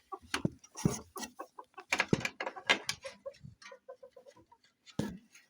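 Poultry in a yard clucks close by, giving a series of short, choppy calls in irregular bursts with brief pauses between them.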